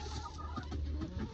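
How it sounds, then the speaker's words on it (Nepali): Local hens cluck in a coop while eggs are being gathered, short uneven clucks over a steady low hum, close and fairly loud, with no one talking. "कुखुराले गीत गाउँदैछ यहाँ"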